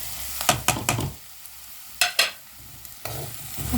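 Onions being sautéed with masala powders in a pan for a dried prawn roast: several sharp scraping stirs of a spatula against the pan over a soft sizzle, close up, with no talking.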